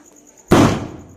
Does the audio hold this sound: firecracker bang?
yes